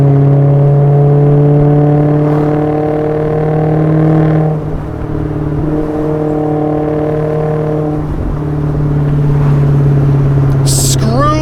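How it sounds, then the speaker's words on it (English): A 2015 Maserati GranTurismo exhaust burbling at about 2000 RPM, a deep, loud, steady drone close by that dips briefly midway before settling back. "there's something about that 2000 RPM exhaust note that honestly beats the red line"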